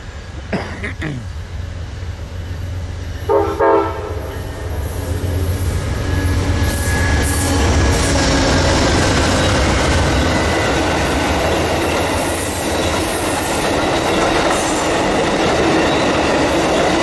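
A mixed manifest freight train passes close and loud, its rumble and clickety-clack of wheels swelling after a few seconds and staying steady and heavy to the end.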